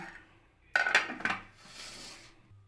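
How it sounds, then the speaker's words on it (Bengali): A lid clatters onto a bowl of spring onion mixture, a brief sharp metallic clink followed by a short scraping settle, close and moderately loud in a quiet kitchen. "আমি এটা 10 মিনিটের জন্য চাপা দিয়ে রেখে দেব।"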